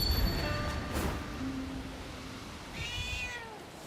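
A cat meows a couple of times at moderate distance amid steady ambient background noise, with a short rising-and-falling call near the end.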